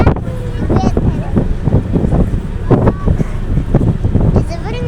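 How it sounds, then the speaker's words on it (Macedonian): Strong wind gusts across a ferry deck at sea, buffeting the microphone in loud, continuous rushes while people talk and exclaim close by. "Много дува."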